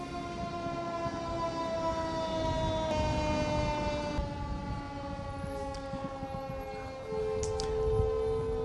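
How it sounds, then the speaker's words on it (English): A fire engine siren wails steadily at a demo car fire during a kids' fire camp, its rising and falling tone loud and sustained over a low engine rumble as the truck approaches. "We have got the engine coming in to put the fire out."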